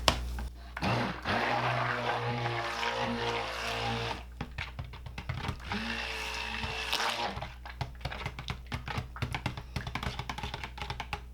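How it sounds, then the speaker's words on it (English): A stick blender whirs in short bursts, blending cold process soap batter to emulsion, with squishy mixing and tapping sounds between pulses, close and moderately loud. "now we're going to be blending this to emulsion with the stick blender"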